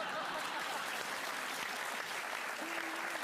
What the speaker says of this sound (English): Can we have a round of applause for all our nominees?